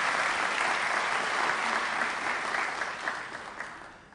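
Applause from an audience at a school fundraising event, a steady broad wash of many hands clapping that holds for several seconds before gradually thinning and fading.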